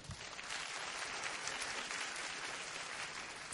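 Applause rings out from a tournament audience at the SBO 2006 Virtua Fighter 4 Final Tuned finals as players enter. The clapping is dense and continuous, steady and fairly distant throughout.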